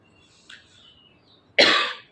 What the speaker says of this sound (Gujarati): આ મને ગળામાં ઉધરસ થઈ ગઈ છે થોડી ઘણી.